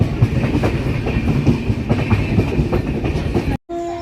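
An express train rolling along the main line near Bandel Junction, a loud, continuous rumble with rhythmic clickety-clack of wheels over rail joints, close and steady before cutting off abruptly near the end.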